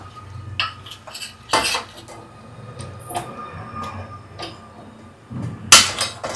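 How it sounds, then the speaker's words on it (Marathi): Metal clinks and clatter from handling an idli steamer pot while it is greased with oil, with a few sharp louder knocks among softer scraping and tapping, close by with no talking. "या भांड्याला असं तेल लावायचं"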